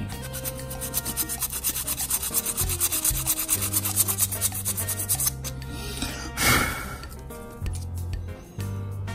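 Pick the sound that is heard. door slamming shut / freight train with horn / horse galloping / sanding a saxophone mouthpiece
sanding a saxophone mouthpiece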